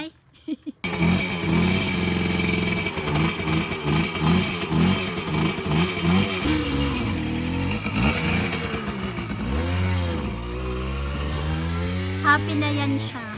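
A 51-year-old motorcycle, unused for two years, idles roughly and then revs up and down in uneven bursts, loud and close, with a clattering mechanical rhythm throughout.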